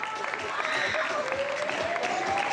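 Steady applause from a crowd at a road-race podium ceremony for a sixth-place women's marathon runner, continuous and moderately loud, with a voice speaking over the clapping.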